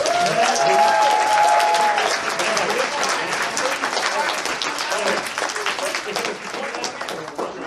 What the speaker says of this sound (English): For every single person who got up on this stage, a huge round of applause.